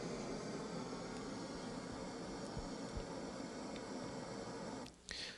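Five seconds of equalized pink noise used as an acoustic measurement test signal, a steady, even hiss filling the room at moderate level until it cuts off abruptly near the end.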